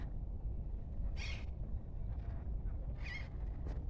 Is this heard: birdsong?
yes